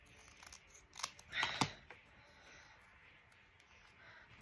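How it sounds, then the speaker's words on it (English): Scissors snip through a piece of cardboard being trimmed around a shape, a quick cluster of three or four crisp cuts in the middle, with no talk. "So I put on a bit of cardboard and then I go around and I trim it off."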